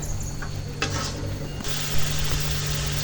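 Spice masala sizzles steadily in a pan for a koi fish bhuna curry, a continuous close crackling hiss with a low hum beneath and occasional stirring bumps, no voices.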